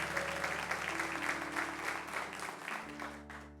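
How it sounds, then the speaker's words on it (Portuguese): Church congregation applauding during a worship service, a dense continuous wash of clapping with steady organ or keyboard tones sustained underneath throughout. "Aplauda o Senhor, que maravilha."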